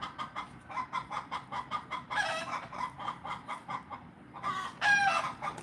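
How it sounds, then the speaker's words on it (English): Backyard chickens cluck in a rapid, steady rhythm, close and moderately loud, with a couple of louder squawking bursts breaking in. "my chickens go to making that noise right there"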